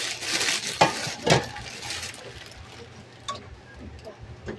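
Carrots and cabbage go into a frying pan of pancit canton and are stirred. A faint sizzle sits under sharp utensil clicks and scrapes, loudest at the start and then settling into quieter stirring.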